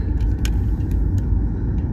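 Car driving along a road near the Redings Mill area in Missouri on a hot day, a steady loud low rumble of engine and tyres throughout with faint high clicks and rattles on top.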